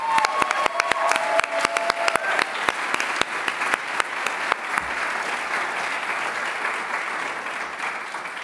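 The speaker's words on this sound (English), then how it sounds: "So let's give us all a big round of applause." Graduation ceremony audience breaks into sustained applause, dense clapping from many hands holding steady and close for several seconds, with a few sharper individual claps standing out early on.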